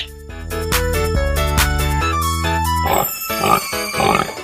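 A short musical jingle plays, then a few rough pig grunts follow in quick succession, fairly close and loud.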